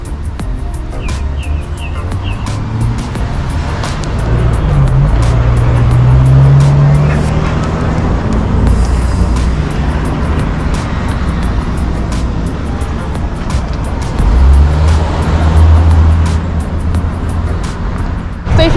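Steady road traffic on a steep residential street in Mount Rush, St George, Grenada, with a vehicle engine rumbling past nearby, its low drone swelling mid-clip and again near the end over constant background noise.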